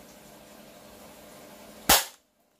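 A single sharp snap from a Kimber Carry 1911 spring-powered toy pistol, loud and close, cutting off quickly into silence after a stretch of quiet room noise.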